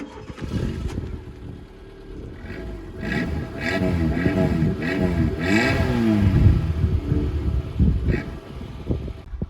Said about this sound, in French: les fameux coups de gaz